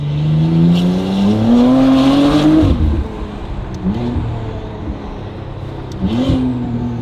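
A McLaren Artura engine with a Valvetronic Designs free-flow race exhaust revs hard and climbs in pitch, drops back, then surges again, with turbo spool whine and a throaty exhaust close by.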